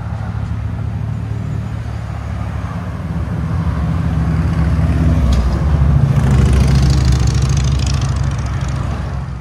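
A 2024 Chevy Tahoe with a 5.3-liter V8 and Black Widow exhaust, a deep rumbling idle that swells into a louder rev around the middle before settling back, close and dominant.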